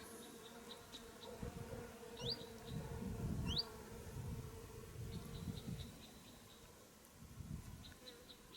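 A wasp buzzes up close around fruit in uneven bursts that swell and fade, with faint birds chirping now and then in the background.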